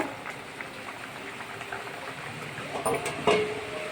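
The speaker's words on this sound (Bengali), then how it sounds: "বৃষ্টি শুরু হয়ে গেছে বাইরে কিন্তু বৃষ্টি হচ্ছে" Steady rain falls outside, a soft continuous hiss with a few faint knocks near the end.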